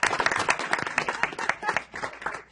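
A small audience at a town mayor and council regular meeting claps in a brief round of applause, with individual hand claps distinct and close, fading toward the end.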